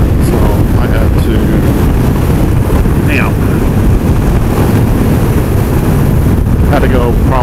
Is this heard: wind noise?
yes